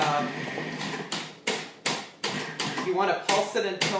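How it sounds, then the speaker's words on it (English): A food processor pulsing pumpkin square crumb topping into coarse crumbs, several short bursts of whirring motor with brief pauses between, loud and close, with a person talking over the start. "you take the top and you pulse it"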